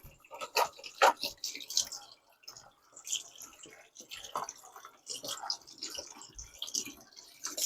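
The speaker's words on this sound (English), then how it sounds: "All right, let's get these beans nice and rinsed off." Canned beans are rinsed under running water, giving irregular splashing and dripping bursts near the sink at a moderate level.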